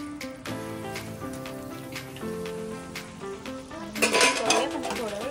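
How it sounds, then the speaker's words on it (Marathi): Homemade koftas drop into boiling gravy in a pot with a brief splashing clatter near the end, following a stretch of steady background tones and light clinks. "ग्रेव्हीला उकळी आलेली आहे, तो आपण बनवलेले जे आहेत आपले कोफ्ते टाकून देऊया."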